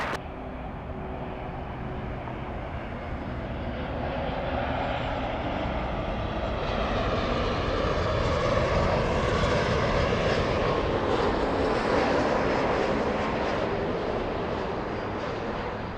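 An Embraer E175 airliner on a runway at LAX, its jet engines roaring steadily and loudly for the whole stretch, swelling slightly midway, with no voices.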